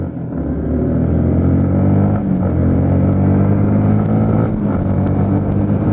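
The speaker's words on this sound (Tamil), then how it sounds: "ஸோ இப்போ நான் சும்மா ஒரு டெஸ்ட் பண்ணுறேன் 0 to 100 மாதிரி" A Yamaha MT-15 BS6 motorcycle pulls hard in a 0 to 100 acceleration run, its engine note steady and loud throughout with brief dips where gears shift, heard up close without talk.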